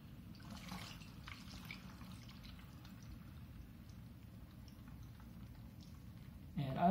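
Kombucha pours into a swing top bottle as a soft, steady trickle of liquid under low background noise, with a short louder splash or clink at the end.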